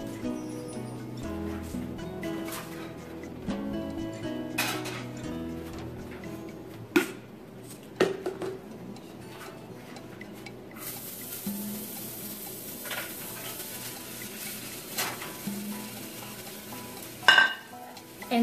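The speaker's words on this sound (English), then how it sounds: "I just mix a black sesame seed and a white sesame seed" Black and white sesame seeds are stirred together in a bowl, with steady clinking and scraping of a utensil against the dish and a busy kitchen clatter throughout.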